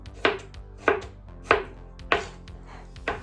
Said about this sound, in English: We'll get these all chopped up, I should say.